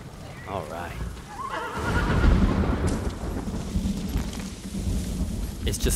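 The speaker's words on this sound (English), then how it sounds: "It's just so fitting that a storm is brewing right now." Rolling thunder and steady rain from a storm in the video game Ghost of Tsushima, with a horse whinnying early on and a dense, loud rumble building.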